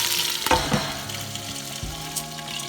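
Chicken and tomatoes fry steadily in a pan for an Italian chicken stew, a continuous close sizzle with a few brief stirring knocks and no talking.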